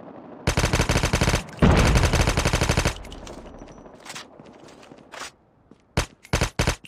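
Loud, rapid automatic bursts from the AK117 rifle in Call of Duty Mobile, a long stuttering volley followed by quieter trailing fire, then a gap and several short sharp bursts near the end.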